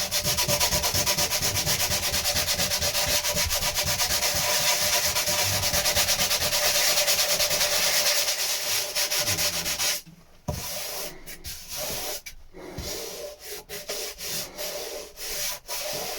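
Wooden boat lockers on a Shetland project are hand sanded to key up the surface, a steady close scratchy rubbing for about ten seconds, then shorter broken strokes with brief pauses.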